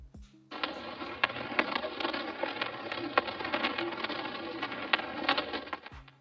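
Vinyl noise for beat texture crackles and hisses steadily, with scattered sharp pops and clicks running through the whole stretch, starting abruptly and cutting off near the end.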